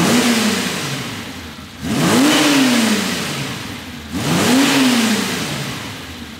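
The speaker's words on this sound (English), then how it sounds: "So we'll see how the engine sounds now." A classic Italian V12 car engine, freshly repaired, revs up three times in succession, each rise in pitch followed by a gradual fall, loud and close.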